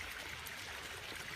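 Water spills from a pipe and drops over into a pool, a steady soft splashing trickle at low level with no breaks.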